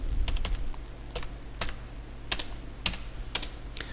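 Computer keyboard typing, a quick irregular series of crisp key clicks with short pauses between bursts, close and fairly quiet, no talking.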